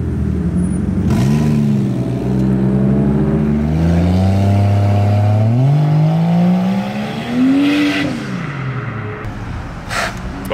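A twin-turbo Lamborghini leaving a pizza car meet revs hard and accelerates away, its loud engine note climbing and falling through several rising gear pulls, close and dominant with no talking over it.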